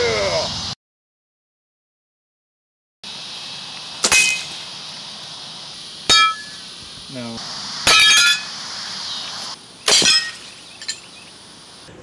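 Clay target plates struck by gunshots and shattering, four sharp bursts of breaking at roughly two-second intervals, each a crisp crack with bright splintering debris, over a low steady background after a brief silent gap.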